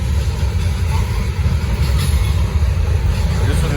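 A Norfolk Southern freight train, number 154, rolls past on the Charlotte District, a loud, steady rumble of railcars and wheels that holds without a break.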